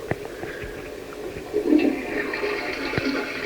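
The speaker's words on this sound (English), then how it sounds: "Again, a beautiful flush, working worthy of any London Transport lavatory." A toilet flushes in a house bathroom, a brief rising swirl of water with some knocks and hum around it, moderately close and without talk.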